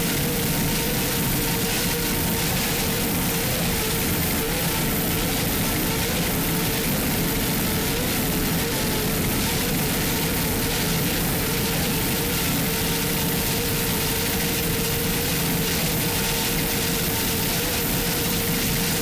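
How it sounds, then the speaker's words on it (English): A Mercury-powered Supercat racing boat engine running flat out in rough-water offshore racing, a continuous loud mechanical roar with a steady whine, heard at a distance under wind and water noise without a break. "The Mercury Supercat engine's just screaming along right there."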